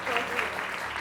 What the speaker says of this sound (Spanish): por favor, un aplauso muy grande para Dani.